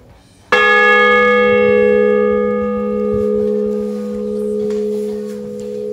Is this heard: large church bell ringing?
yes